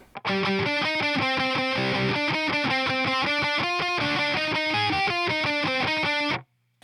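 Heavily distorted electric guitar plays the palm-muted part of a song, tight repeated chugs alternating with brighter picked notes in a steady driving rhythm, loud and up close before cutting off sharply.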